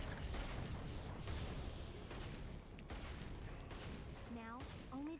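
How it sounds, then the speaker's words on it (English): Deep booming cannon fire from a video game battle, heavy repeated blasts rolling through a dense, continuous roar of gunfire, with a few higher tonal game sounds near the end. "I can hear deafening cannon fire."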